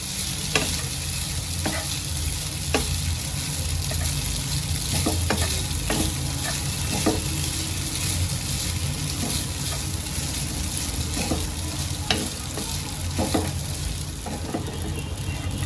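Steamed vermicelli frying for sevai upma, stirred in a hot pan with a steady close sizzle and repeated scraping strokes of the spoon throughout, no talking.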